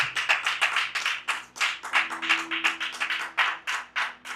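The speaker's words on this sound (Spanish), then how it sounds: "Dale un aplauso al Padre en esta poderosa noche." A small church congregation claps rhythmically through an evening service, a steady pattern of distinct, fairly close hand claps repeating at a quick beat with no voices over it.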